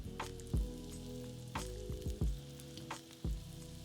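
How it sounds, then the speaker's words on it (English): Shrimp go into a hot straight-sided saute pan over medium-high heat, each dropped piece bringing a fresh burst of sizzling, heard as several separate thumps and hisses at quiet level. "Time to add our shrimp in."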